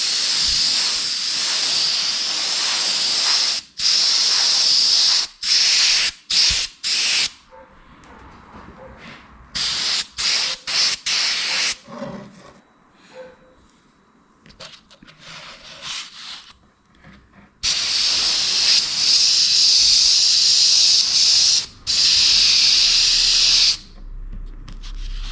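An aerosol can sprays flash coats of paint around the perimeter of a Willie G custom points cover, loud close hissing bursts of varying length separated by pauses, with longer sustained sprays at the start and end.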